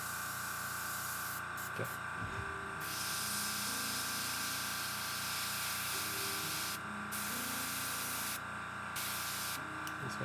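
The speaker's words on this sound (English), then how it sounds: "air compressor still on" A small air compressor runs for airbrush painting of models, a steady faint hum with a constant hiss, interrupted by short bursts of spray, while a person briefly speaks.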